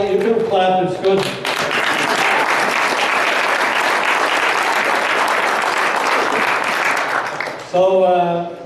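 Sustained audience clapping at a celebration of Cecil Hart and the Hart Trophy, a loud even wash of applause framed by brief speech at the start and end.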